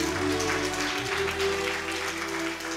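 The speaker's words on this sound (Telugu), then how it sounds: "గట్టిగా చప్పట్లు కొట్టాలి." An audience claps loudly at a Christian sermon gathering, a steady wash of many hands applauding throughout, with a sustained low tonal hum running beneath it.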